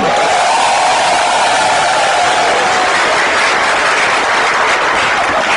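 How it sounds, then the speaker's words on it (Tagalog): An audience claps together in loud, dense, continuous applause that stays steady throughout. "Palakpak naman kayo dyan."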